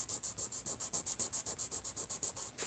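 Steady rhythmic sanding of Hawaiian koa wood knife scales on a sanding block, about twenty quick back-and-forth rasping strokes, close and even, with no voices.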